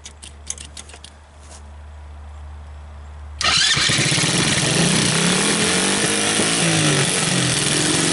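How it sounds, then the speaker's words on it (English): An ATV fitted with a low-cost replacement CDI system: its electric starter clicks and cranks briefly, then the engine catches and settles into a loud, steady, close run. "So this engages the starter"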